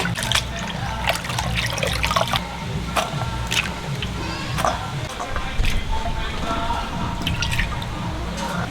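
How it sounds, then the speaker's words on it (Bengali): Water splashing and dripping in a basin as potatoes are rinsed by hand, with irregular small splashes and trickles, close by. "আলু ভাজার আলুটা ধুয়ে নিচ্ছি"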